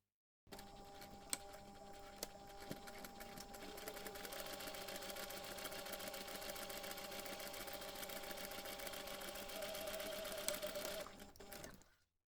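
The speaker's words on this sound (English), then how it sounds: "you can take this to the machine and sew the seam on both sides" A sewing machine runs steadily, stitching the side seams of a beginner's drawstring pouch with a 5mm seam allowance, a continuous close mechanical whir lasting about eleven seconds before it stops.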